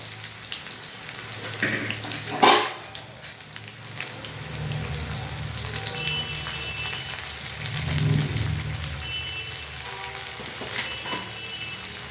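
Chopped raw onion hits hot oil spiced with cardamom and cloves, setting off a loud hiss and bubbling burst, then settling into a sustained close sizzle that swells briefly as it is stirred.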